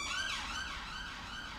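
An ambulance siren wails outside, its rising and falling tone sweeping steadily and fairly loud for a brief moment, with no talking over it.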